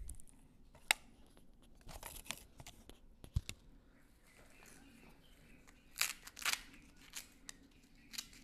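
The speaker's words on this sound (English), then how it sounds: "I have to take these scissors and try to trim off the" Scissors snip repeatedly through freshly picked corn, trimming the stalk ends in a grandfather's corn field, with sharp irregular cuts and crinkling husk sounds outdoors.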